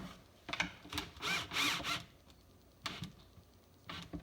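Small screws on an assembled desk are tightened down in bursts of ratcheting, clicking mechanical sound, several short spells separated by pauses, close and fairly quiet.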